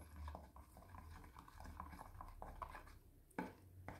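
A soap mixture being stirred in a container makes soft scraping and clinking strokes, a few sharper knocks at an irregular rhythm, quiet and close with no voices.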